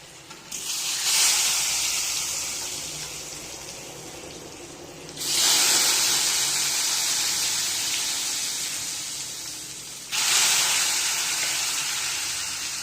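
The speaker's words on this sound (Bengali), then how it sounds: "এবার আলুগুলোকে দিয়ে দেবো ফ্রাই হওয়ার জন্য" Potatoes dropped into hot oil for frying while making an egg-and-potato curry, giving three loud sizzling bursts that each flare up sharply and slowly fade, close and steady with no talk.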